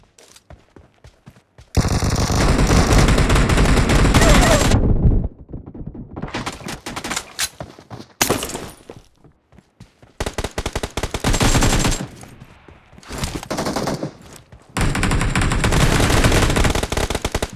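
Bursts of automatic gunfire in PUBG Mobile team deathmatch, loud, close sustained volleys of rapid shots separated by short quieter gaps with scattered single shots, over several long strings of fire.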